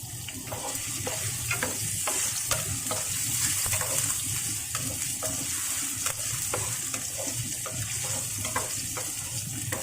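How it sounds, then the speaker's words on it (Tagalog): Tofu frying in a pan, a steady close sizzle with scattered crackles and pops and occasional stirring clatter, continuous for about ten seconds with no talking. "Ipiprito ko muna tong crunchy ko tong tofu."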